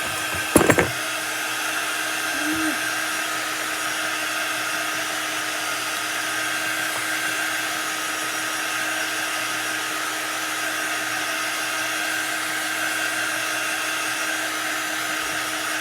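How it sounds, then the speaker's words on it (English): A hair dryer runs steadily on a Chalk Couture craft project, a continuous loud blowing whir that starts after a brief click and holds evenly throughout. "So let's get our dryer out."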